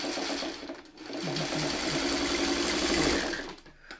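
A sewing machine stitches quarter square triangle quilt blocks close by, running in a fast continuous whir that briefly drops off near the start and again at the end, with no voices.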